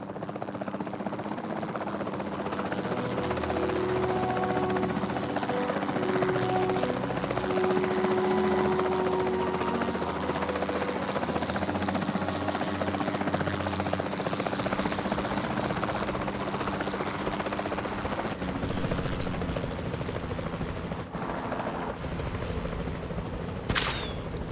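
Helicopter in the video game Jurassic World Evolution 2, a steady rotor and engine drone running throughout with bursts of game effects and gunfire-like clatter over it, no talk.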